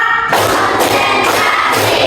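A classroom group claps in unison during a counted warm-up routine, with loud, close bursts of many hands landing in a steady pulse and a faint crowd murmur underneath.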